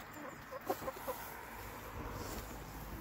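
Chickens cluck softly in a coop, a few short clucks close together near the start, faint over a steady ambient hiss.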